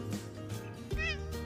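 Suki, a pet cat, gives several short meows in quick succession, close and clear, over a steady low indoor hum with no talking.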